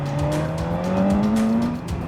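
A 2019 BMW S1000RR sport motorcycle's engine note falls steadily in pitch under engine braking, a loud, sustained onboard drone with no talking.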